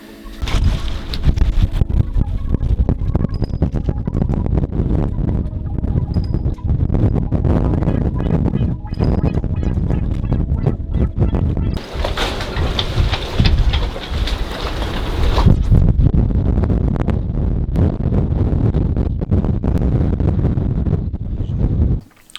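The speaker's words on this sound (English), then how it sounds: "nice big 40-50 knot winds and these huge gusts" Strong 40-50 knot wind roars steadily and loudly throughout, buffeting the microphone, with heavier gusts swelling in the middle.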